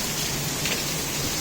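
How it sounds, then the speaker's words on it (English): Hail falling steadily during a September storm in Carol Stream, Illinois, a dense, continuous hiss of pellets striking surfaces nearby, with no voices. "As you can see, hail's still falling."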